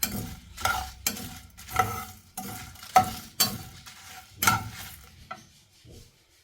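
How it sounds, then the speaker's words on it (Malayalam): Repeated scraping and stirring strokes in a dry pan while roasting whole spices, about eight rhythmic passes with faint sizzling, close up, then fading to quiet. "നമുക്കിതൊന്ന് വറുത്തെടുക്കാം"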